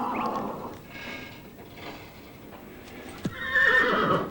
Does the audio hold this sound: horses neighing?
yes